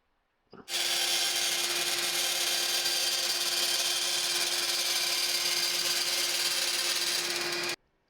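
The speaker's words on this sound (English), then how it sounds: "I got the aluminum traced out, getting ready to cut it." A power tool cuts aluminum sheet for front-mount intercooler ducting on an E46 BMW M3, a loud steady whining cut starting abruptly and running about seven seconds before stopping, with no talking.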